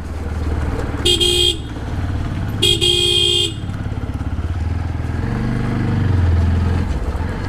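TVS Apache RTR 160 4V motorcycle setting off on a road ride, its engine droning steadily with two loud horn blasts in succession, then rising revs as it pulls away amid traffic.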